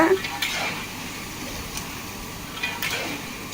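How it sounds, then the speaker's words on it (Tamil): Plantain chips fry in oil while a ladle stirs them, with a faint bubbling hiss and several short scraping metal strokes spaced a second or so apart. "மிஷின்லேருந்து சீவி எண்ணெயில் விழும்போதே ஒரு கரண்டி வச்சு நல்லா கலந்து கொடுத்துக்கிட்டே இருக்கிறாங்க"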